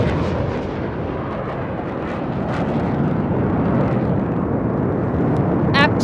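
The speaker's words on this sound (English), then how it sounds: "a single Rafale aircraft flying at a speed of 900 kilometers per hour, carrying out a vertical Charlie." A Rafale fighter jet flying a vertical Charlie at high speed during a Republic Day air show parade, heard as a loud, continuous, broad roar that holds steady throughout.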